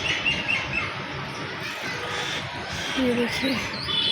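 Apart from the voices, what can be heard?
birds chirping outdoors before rain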